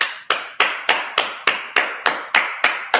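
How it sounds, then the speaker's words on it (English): A congregation at a Sabbath service claps in a steady, even rhythm, about ten loud, sharp claps spaced roughly a third of a second apart, with no voices over them. "All right, clap it up."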